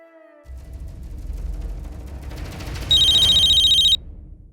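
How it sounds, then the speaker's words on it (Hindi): A telephone rings once in a Hindi TV drama scene, a loud, bright electronic trill lasting about a second, following low rumbling background noise, with no talking. "मुझे क्यों फोन कर रही है?"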